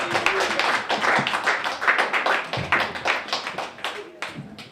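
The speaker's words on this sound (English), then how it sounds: "So please put your hands together for Josh Womack." A comedy club audience at a live stand-up show claps for comedian Josh Womack, a steady burst of close, dense handclaps that stays lively for several seconds.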